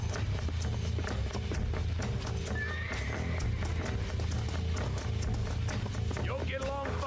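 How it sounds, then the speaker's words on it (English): In the Red Dead Redemption video game, a horse's hooves clip-clop in a steady running rhythm, with a whinny near the end, under game sounds and speech. "El caballo."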